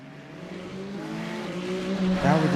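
Race cars running side by side at Sebring, a steady engine drone rising in pitch as they accelerate, with a louder surge and revving near the end, fairly close.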